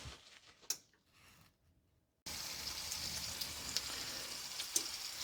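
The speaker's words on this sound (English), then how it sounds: "we got our bacon cooking" Bacon frying in a new skillet, a faint crackle and a few ticks at first, then after a brief silence a steady close sizzle with scattered pops.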